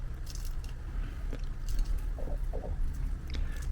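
Biting into a crunchy breaded Walmart fish fillet gives a few soft, close crunches over a low background hum, with no talking.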